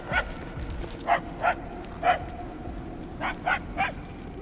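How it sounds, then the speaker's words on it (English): Dog barking in the video game Guardians of the Galaxy: about seven short barks at irregular intervals, moderately distant and getting louder, over a low ambient rumble with no talk. "The barks are getting louder"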